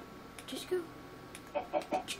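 A chicken in the game Minecraft clucks in short, soft bursts, one early and then a quick run of three or four near the end, over low background game ambience.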